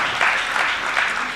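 Audience at a general assembly breaks into applause, a steady burst of many hands clapping, fairly close and even throughout the short stretch.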